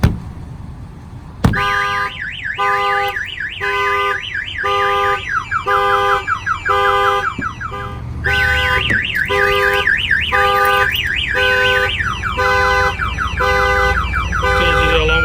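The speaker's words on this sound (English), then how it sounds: "I'm going to go ahead and bang on the truck. The alarm will fire off." A loud truck alarm starts abruptly after a thud from banging on the truck and cycles through repeating electronic whoops and chirps, continuous and close.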